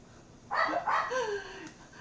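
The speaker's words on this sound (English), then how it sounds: "there goes Indy barking" A dog barks and yips indoors in a short burst of two or three sharp barks trailing into a whine, fairly close and loud over a quiet room.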